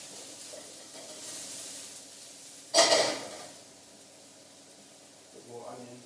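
Sausage and onions frying in a pan give a faint, steady sizzle, broken by one loud burst of sizzling or stirring midway and a softer clatter near the end, with talk over it.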